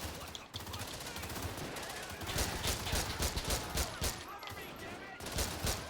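Gunfire from a shooting video game, with pistol shots cracking in quick bursts over a dense, busy game soundscape, loud and continuous throughout.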